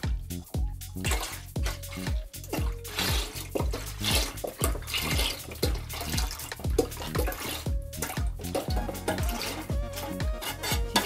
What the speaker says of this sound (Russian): И литр молока туда выливаем